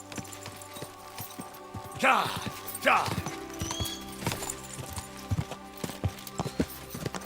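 In Kingdom Come Deliverance 2, a horse's hooves clop steadily while it gives two sharp whinnies close by, and someone speaks briefly over the hoofbeats.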